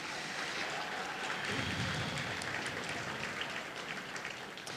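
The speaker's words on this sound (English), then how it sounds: "So if you'll give Mr. Schnakey a round of applause" Applause from the audience at a 2013 middle school talent show, soft and distant, a continuous wash of clapping that sounds almost like rain.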